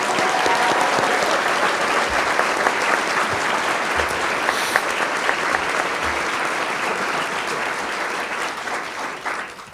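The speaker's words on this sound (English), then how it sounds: "Let's give our students one more round of applause." A full audience at a distinguished student awards ceremony applauds the students, a dense, loud, continuous wash of many hands clapping that holds steady and only tapers slightly near the end.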